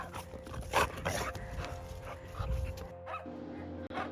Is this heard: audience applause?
no